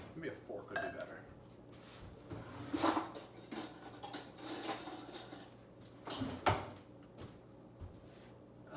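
A fork scrapes and clinks against a mixing bowl while gathering loose crepe batter, with irregular metallic taps and scrapes at close range over a low background hum.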